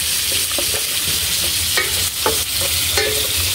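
Ginger sautéing in a pan for ginisang monggo, an even close sizzle with a few short clinks of a utensil stirring against the pan, no speech.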